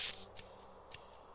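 Two quick, faint metallic snips of scissors about half a second apart in the Japanese video game Shikiyoku (Yumemi Teru wa Yumemiteru), heard alone against a quiet background.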